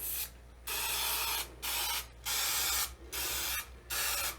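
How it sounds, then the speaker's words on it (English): Baker's Joy baking spray hisses from an aerosol can onto a muffin pan in a home kitchen, five or six short bursts separated by brief pauses, close and fairly loud with no talking. "What I'm going to do now is I'm going to spray with Baker's Joy"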